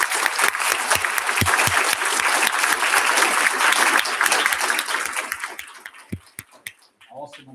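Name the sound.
audience applause at a school board meeting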